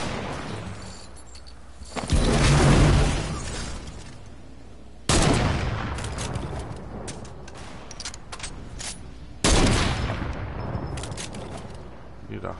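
Loud booming gunshots from a video game, three heavy blasts spaced several seconds apart, each trailing into a long echoing rumble over steady background game ambience.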